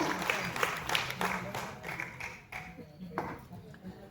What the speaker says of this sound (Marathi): एकदा जोरदार टाळ्यांचा कडकडाट होऊन जाऊ देत या पितापुत्रांसाठी सुद्धा